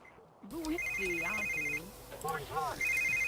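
In The Sims 3 video game, a mobile phone rings with repeated electronic tone bursts, heard under a voice talking at moderate level.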